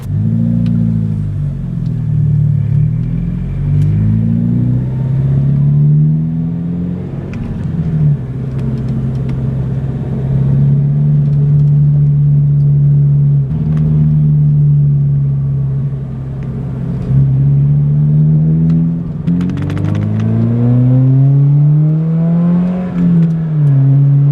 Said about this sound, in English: the car's gonna be a lot louder in person than it is gonna be in these clips